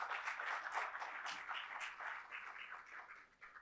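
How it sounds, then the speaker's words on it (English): Faint, distant audience clapping in a university lecture hall, a soft patter of hands that fades gradually over a few seconds. "let us welcome him with a big clap"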